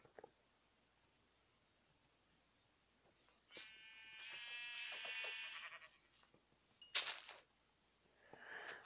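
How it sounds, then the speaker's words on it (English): Sheep in a Minecraft-style video game bleat faintly a few times. The wavering calls come and go over quiet background hiss, and there is no talking. "We need to find those two sheep."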